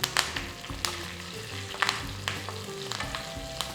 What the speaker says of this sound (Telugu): ఒక టీ స్పూన్ జీలకర్ర రెండు టీ స్పూన్ల నువ్వులు నాలుగు మధ్యలోకి కట్ చేసుకున్న పచ్చిమిరపకాయలు కొన్ని కరివేపాకులు వేసి వేయించుకోవాలి